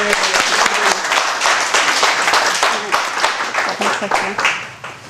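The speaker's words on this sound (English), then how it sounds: "Please, big round of applause for Kate Edwards" An audience at a crowdfunding talk claps to welcome speaker Kate Edwards, a dense, close burst of many hands that holds steady and then tapers off.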